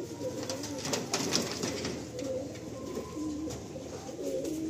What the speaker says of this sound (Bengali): এই যে দেখুন চারটে আবলুক পায়রা।